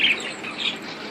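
Birds chirp briefly near a pet monkey's morning enclosure, a few quick high tweets over quiet background, with no talk.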